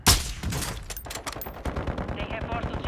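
Gunfire in the video game Call of Duty Warzone 2.0, a sharp loud opening shot followed by rapid bursts of automatic fire, with faint voices underneath.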